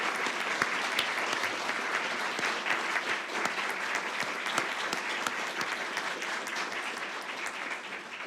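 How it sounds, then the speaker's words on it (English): Applause from an audience at a gift announcement ceremony, dense and even clapping held at moderate level, somewhat distant, with no voices over it. "that's worthy of a round of applause for everyone"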